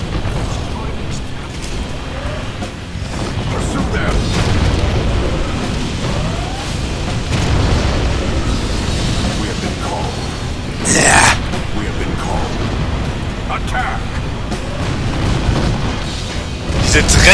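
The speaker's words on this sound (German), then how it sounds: "Und hier ist jetzt die Flammenexplosion." Fiery explosions in the real-time strategy game C&C Generals Zero Hour, heard as continuous booming, rumbling blasts that swell and fade, with a sharper burst partway through.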